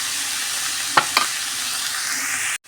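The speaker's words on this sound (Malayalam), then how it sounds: "അപ്പം നമ്മൾ ചെഞ്ചീര ചട്ടിയിലേക്ക് ഇട്ടിട്ടോ ഇങ്ങനെ വാടി വെക്കാം" Red amaranth leaves sauté in a pan with an even, close frying hiss, a couple of brief utensil scrapes midway, then a sudden cutoff.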